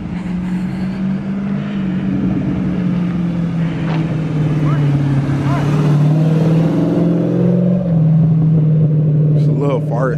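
Tuned Dodge Charger SRT8 Super Bee V8 idling with a deep rumble and rising into a few revs, close and loud, with people talking over it.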